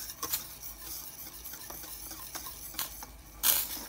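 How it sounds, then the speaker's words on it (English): A spoon stirring banana oatmeal porridge mixture in a pot, faint soft scraping and wet patter with a few light clinks, steady and close, ending in a sharper brief knock. "we're just gonna mix it all together so everything is combined"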